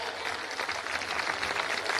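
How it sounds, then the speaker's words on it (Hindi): Crowd applause welcoming Shivraj Singh Chouhan at a Bhai Dooj event in Mandideep, a steady, moderately quiet wash of many hands clapping, heard from a distance without pause. "जोरदार तालियों से स्वागत किया जाए"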